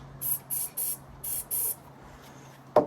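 Five short hissing bursts of a starting fluid aerosol spray in quick succession, close by over a low hum, followed by a sharp clack, at a Yamaha 9.9HP four-stroke outboard engine that will not run.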